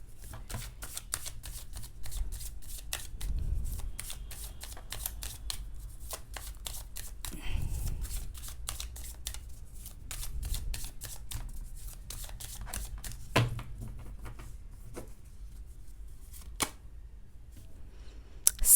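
Tarot cards being shuffled by hand: soft, rapid riffling and flicking that runs throughout, with a few louder snaps and light handling thumps, fairly close and quiet.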